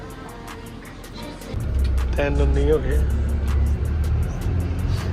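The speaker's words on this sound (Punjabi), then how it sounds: "ਲੋ ਜੀ ਬੱਸ ਆ ਗਈ ਲੈਣ" A bus pulls up at a casino in Australia to collect passengers. A low engine rumble swells in after about a second and a half and holds steady, with people talking over it.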